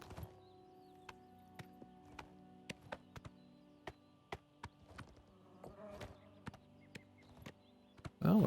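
Faint hoof clip-clops of a horse in the video game Oblivion tap out an irregular rhythm at a distance, sharp clicks over a quiet, steady background hum.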